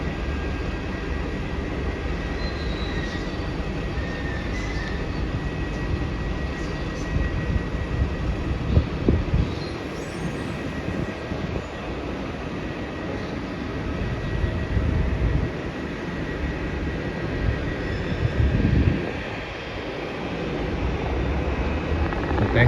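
An airliner on the runway at Melbourne Airport, bound for LAX, produces a continuous, fairly distant jet roar that swells and eases slightly over a steady outdoor rumble.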